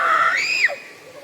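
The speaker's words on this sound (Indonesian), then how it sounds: "kalau dengar teriak-teriakan dari tadi, itu cara komunikasi aja" A villager in Baduy Dalam gives a loud, high, drawn-out shout that rises and then falls away, a single call that rings clearly and carries like a signal.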